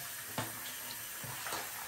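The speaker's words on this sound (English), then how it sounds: "drop the filters in with the water running just for a little, just so that they can rinse under there for a second" A kitchen tap runs into a sink while vacuum filters are rinsed under it, a quiet steady water flow broken by a few short splashy bursts.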